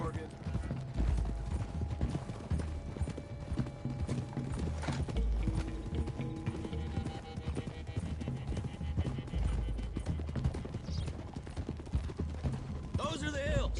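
Horses gallop with steady clip-clopping hooves in the Red Dead Redemption 2 video game, a constant rhythmic beat under game music, with a brief whinny and people talking over it.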